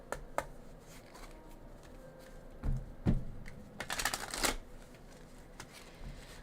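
Oracle cards are shuffled close by in soft riffling bursts and a few sharper flutters and taps, fairly quiet overall.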